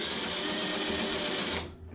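A power drill spins a bit straight down against a SCAG walk-behind mower deck, giving a steady whirring drone for nearly two seconds before it winds down and stops, with no talking.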